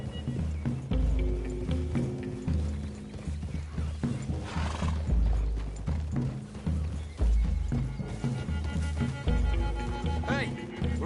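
Horses in the video game Red Dead Redemption 2 clop along in an uneven rhythm of hoofbeats with an occasional whinny, mixed with rattling tack and gear while voices talk over them.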